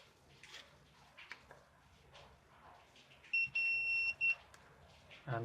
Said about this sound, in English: the alert way is just a beep